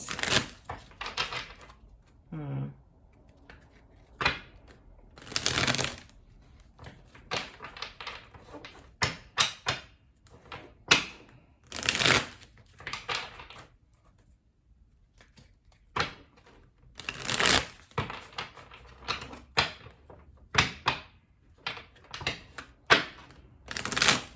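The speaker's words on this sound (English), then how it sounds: "Sorry for the long shuffle, guys." Cards being shuffled up close, with irregular bursts of riffling and snapping broken by short pauses, and no voices.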